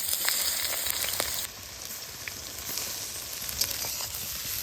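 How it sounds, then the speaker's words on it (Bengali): Chopped onions sizzle steadily in hot mustard oil in a wok, a dense, close frying hiss with small pops that eases slightly after the first second and then continues evenly. "দিয়ে দিব তেলের মধ্যে পেঁয়াজ কুচি"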